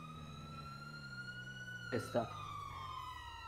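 A police-style car siren in the video game GTA V on a FiveM server wails steadily at a low, distant level, its pitch drifting slowly, while a voice briefly speaks over it.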